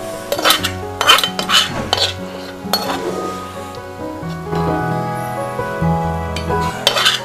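Cooked gongura (sorrel) leaves for an Andhra gongura dish being mashed in a pan, with repeated metallic clinks and scraping strokes of a utensil against the pan over steady background music.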